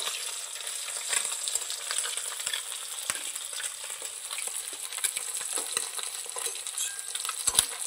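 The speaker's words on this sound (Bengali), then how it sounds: "ওর জন্য আমি এখন ভাজতে শুরু করে দিয়েছি।" Small prawns frying in a pan give a steady close sizzle throughout, with occasional scrapes and taps from stirring.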